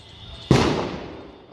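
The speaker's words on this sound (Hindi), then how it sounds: "और फिर पटाखा बोला" A single firecracker bursts with one sharp loud crack, then a decaying rumble, amid faint outdoor background during pigeon flying.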